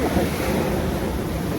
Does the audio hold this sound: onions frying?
no